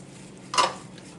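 A single quick scrape of a spoon through sauce as brown sugar is stirred in for BBQ venison meatballs in a cast iron pan, brief and close against a quiet kitchen background.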